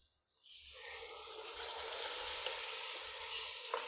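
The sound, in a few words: canned tomatoes sizzling in a pot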